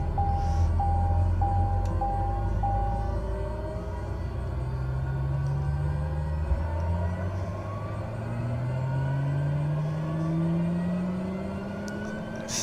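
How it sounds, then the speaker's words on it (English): A light aircraft's engine cranks and starts up at an airport, with a low rumbling drone that rises steadily in pitch as it spins up; a short series of electronic beeps sounds near the start. "Start my engine up again."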